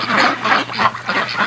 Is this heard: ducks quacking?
yes